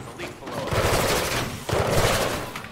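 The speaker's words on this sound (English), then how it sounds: "Oh, there's a guy shooting." Bursts of rapid automatic gunfire from an enemy in Mirror's Edge Catalyst: two dense, loud volleys with a brief gap between them, and a voice talking underneath.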